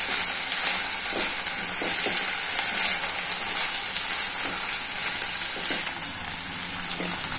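Bitter gourd pieces fry in a pan for a tamarind curry, giving a steady, close hiss of sizzling oil with faint occasional stirring knocks and no voices.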